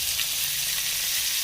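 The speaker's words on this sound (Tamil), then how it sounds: "எல்லாருமே இப்போ நல்லா வதங்கிட்டு இருக்குது" Pirandai (adamant creeper) with small onions, tomato, tamarind and garlic sautéing in a pan for thuvaiyal, giving a steady, close, even sizzle that fills the whole moment without pause or talk.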